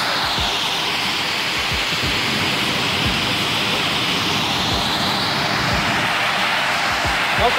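Waterfall in Oriskany heard as a continuous broadband rush of falling water, loud and unbroken throughout, with low rumbling gusts that may be wind against the microphone.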